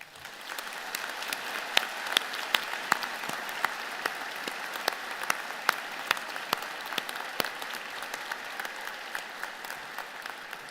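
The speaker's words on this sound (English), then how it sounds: "join me and the platform party in thanking them with a" A convocation crowd gives a vigorous round of applause at a university graduation ceremony, a dense, sustained wash of many hands clapping with occasional sharper claps standing out, steady throughout at moderate distance.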